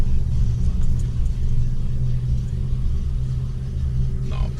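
A 2018 Ford F-150 XLT SuperCrew pickup truck drives along, a steady close low engine and road rumble with a brief higher swish near the end.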